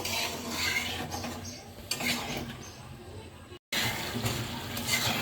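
Flat beans and potatoes sautéing in a wok, with a steady sizzle and the scrape and clink of stirring, broken by a brief cut of silence.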